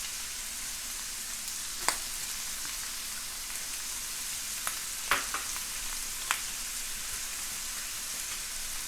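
Sausage, onion and garlic sauté in a pan with a soft, even crackle, broken by a few sharp clicks of a utensil against the pan and no voices.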